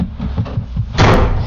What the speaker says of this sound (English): slams their door.